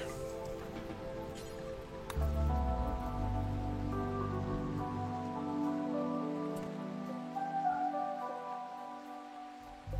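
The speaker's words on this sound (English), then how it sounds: "Right now it's raining" Steady rain falls in a video game, pattering over a forest where a fire is burning, with a tonal music bed and a low rumble running underneath throughout. No one speaks.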